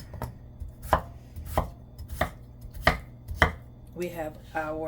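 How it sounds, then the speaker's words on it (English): A knife chopping potatoes on a cutting board for dinner, six crisp, evenly spaced thuds close by, followed by a few spoken words at the end. "potatoes. You could cut them as little or as big as you would like."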